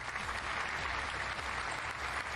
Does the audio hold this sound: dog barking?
no